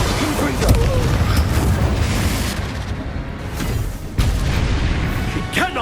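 A Confringo fire curse explodes during a spell battle in Hogwarts Legacy, with loud booming blasts over dense, continuous combat noise and a sharp burst near the end.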